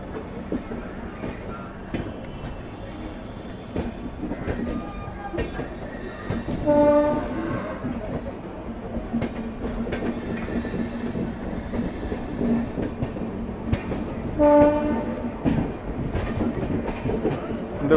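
A Kanpur Shatabdi express train passes close by with continuous rumbling and clattering wheels. Two horn blasts sound, one around the middle and another near the end.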